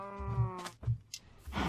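A Minecraft sheep in an automatic wool farm gives a drawn-out bleat, followed by short crunchy bursts of grass being eaten, close and moderately loud with no talking.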